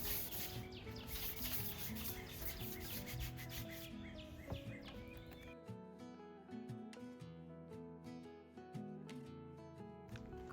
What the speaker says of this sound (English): This is really fine sandpaper,